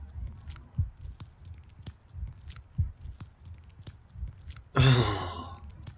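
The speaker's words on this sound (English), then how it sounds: "Oh, I hate the sound of people chewing." Someone chews and bites into a sandwich in a video game, soft wet squishy chewing with sporadic crunchy bites up close. A louder rasping sound bursts in near the end, and no voices are heard.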